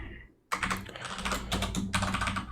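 Computer keyboard keys being typed on during a terminal session, a brief quiet pause and then a dense run of close, crisp clicking keystrokes that continues to the end with short gaps.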